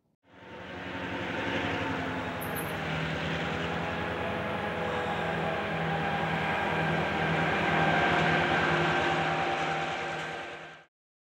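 A Conrail train rolls along the former Reading Railroad line near Harrisburg and Reading. Its steady, droning rumble with a low mechanical hum holds for about ten seconds before cutting off.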